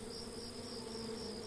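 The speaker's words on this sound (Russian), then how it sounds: "Да гнездо где-то это осиное. Вот жужжат и жужжат, жужжат и жужжат." Wasps buzz near a nest in a tree, a continuous steady drone with a thin high whine, close and even in volume throughout, with no other sounds.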